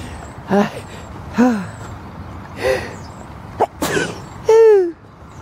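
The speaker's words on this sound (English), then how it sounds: "Mummy's just sneezing" Several sharp sneezes burst out one after another, close and fairly loud, separated by short quiet gaps, the last one the strongest.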